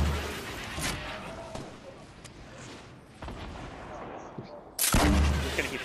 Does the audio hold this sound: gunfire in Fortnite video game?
yes